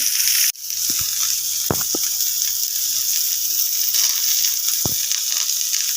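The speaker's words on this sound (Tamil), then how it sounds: "எல்லாத்தையும் போட்டாச்சு நல்லா வதக்கணும்" Steady hiss of dried chillies, tamarind, curry leaves and shallots sautéing in a pan for spicy chutney, with a few soft clicks and stirring knocks over the continuous sizzle.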